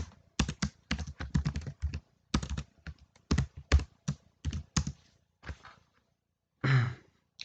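Close computer keyboard typing comes in quick bursts of clicks with short pauses and a firmer key press among them, followed by a brief breathy sound near the end; no speech.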